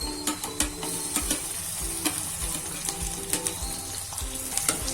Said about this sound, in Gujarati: હવે આપણે આદુ લસણ મરચાંની પેસ્ટ ઉમેરી દઈશું